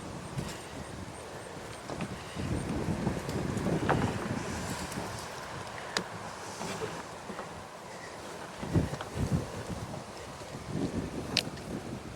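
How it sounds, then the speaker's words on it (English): Gusty wind buffets an outdoor camera microphone in a garden, a steady rushing roar with louder swells and a few sharp knocks and thumps as the camera is blown over. "Had a brief interruption there when the wind blew the camera over."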